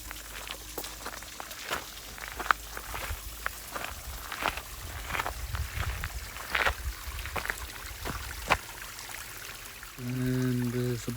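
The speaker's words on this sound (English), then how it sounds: "That's the water we've been hearing in the background the whole time before it dribbles" Water from a garden watercourse trickles and dribbles into a pond, faint and continuous, with scattered splashes and light knocks throughout and a brief louder rumble at the very end.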